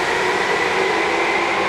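Tokyu 8500 series train: steady, loud rail rumble with a droning motor hum and a faint tonal whine. It is continuous and close, with no voices.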